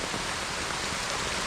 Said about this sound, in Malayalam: നല്ല മഴ പെയ്യുന്നുണ്ട്.